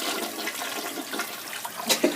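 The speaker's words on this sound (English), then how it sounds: "I wanna flush it." A toilet flushes with a rushing, swirling gush of water that holds steady for about two seconds, close by and fairly loud, with no voices.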